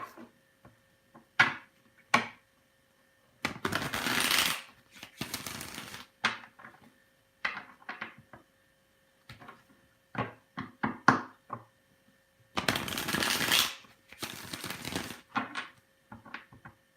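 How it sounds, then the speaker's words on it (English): A deck of cards being shuffled by hand at a live reading, with repeated riffles and bridge-style bursts separated by short taps and pauses, close and clear over near silence. "while I do the shuffling right now."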